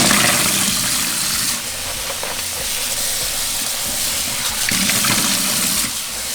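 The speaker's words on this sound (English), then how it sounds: "we're going to fill up our pot with water" Tap water runs steadily into a cooking pot being filled to boil dried chiles for birria de res, a continuous close rushing hiss that swells slightly partway through, with no voices.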